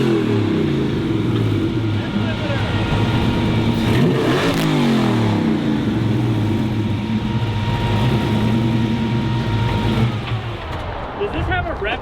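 A 1957 car's engine revving hard and holding high toward the rev limiter, a loud, close, sustained roar with wavering pitch that eases off near the end.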